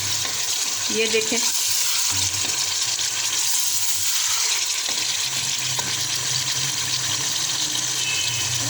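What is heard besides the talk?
spinach frying in hot oil with chicken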